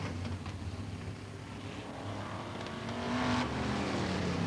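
Brisca F1 stock cars race at Northampton in 1987, their engines roaring in a steady distant drone that swells louder toward the end as cars pass nearer.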